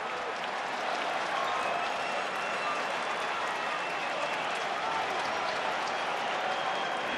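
Sustained broadband roar of a large stadium crowd applauding and cheering at 2024 World Series Game 5, Dodgers vs Yankees, steady and loud throughout with no break.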